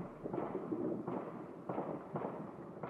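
Fireworks go off at New Year's, a series of faint, distant muffled bangs about every half second, each with a short rumbling decay over steady background noise.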